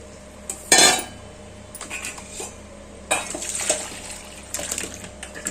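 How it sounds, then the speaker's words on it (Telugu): Water splashes into a metal pressure cooker in a few bursts, with clinks of utensils against the rim; close and fairly loud, no talking. "దీంట్లో నార్మల్ వాటర్ పోసేద్దాము"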